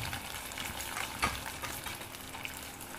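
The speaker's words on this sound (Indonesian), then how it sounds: "lalu kita goreng sosis dalam keadaan api sedang atau api kecil." Sausages fry in oil heated until very hot and then kept over a medium or low flame, giving a steady, close sizzle with a brief spattering burst partway through and no talk.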